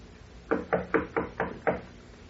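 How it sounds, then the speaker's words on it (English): Six firm knocks on a door, a radio drama sound effect, rap out in an even rhythm, close and clear against a quiet background with no voices. "I will knock."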